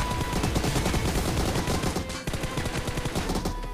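Rapid gunfire from a multiplayer shooting video game, dense bursts of automatic shots crackling continuously with only a brief gap midway, loud and up close.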